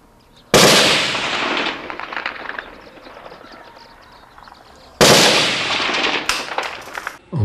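Sharp, loud gunfire cracks in a Bosnian combat zone around Ilidža and Nedžarići, two sudden bursts a few seconds apart, each followed by echoing reports and crackling decay, with no talking.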